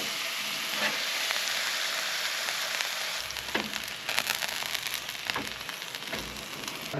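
Ground turkey browning in olive oil in a pan in a remote off-grid anglers' cabin, a steady close sizzle with a few scraping stirs, no talk.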